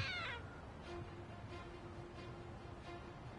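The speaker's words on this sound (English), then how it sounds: "It meowed, so it's a trick statue?" A single short cat meow comes from a trick statue in the video game Lost Judgment. It is quiet and sounds right at the start, then fades into faint background game ambience.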